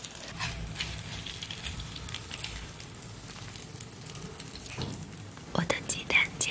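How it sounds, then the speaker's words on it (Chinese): An egg fries in a pan with a soft, close sizzle, joined by faint clatter from the pan and a couple of sharper knocks near the end. "我的鸡蛋煎好了耶"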